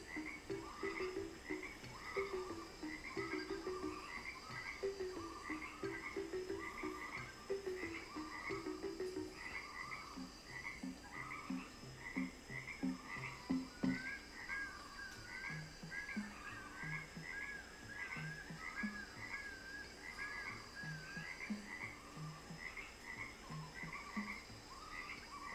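Frogs croaking in the Lost Odyssey video game, a dense chorus of repeated rhythmic croaks and chirps running steadily throughout, moderately loud with no voices.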